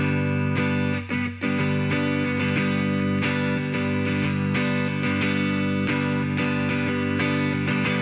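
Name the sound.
guitar through lush dark reverb, John Frusciante tone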